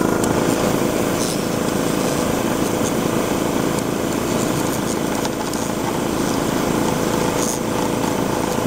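A waste oil burner runs steadily at close range, a loud continuous roaring hum with faint intermittent ticks and no talk over it.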